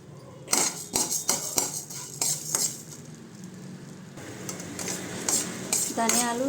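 A spoon scrapes and clinks in a pan as coriander seeds dry-roast, with a soft rustling sizzle between rhythmic stirring strokes, close and fairly loud, with no talk.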